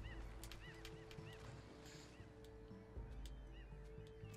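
A bird honks in the puzzle-platform video game Unravel, with goose-like calls scattered through a dense, steady bed of game music and ambience and no talking.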